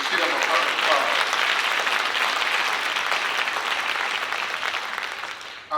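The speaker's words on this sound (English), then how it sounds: "Let's give them a round of applause." A full hall applauds graduates of the Father to Father fatherhood program at a Columbus Urban League graduation, with even, dense clapping that holds strong for nearly six seconds before cutting off.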